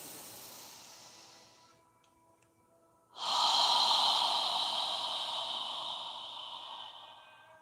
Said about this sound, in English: Filling your lungs completely on the inhale, breathing through your nose.